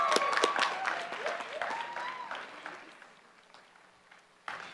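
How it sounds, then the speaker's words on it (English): Applause from the audience at a 2018 College of Environmental Design commencement ceremony, loud and dense at first, then thinning and fading over several seconds before a short final burst. "Another round of applause,"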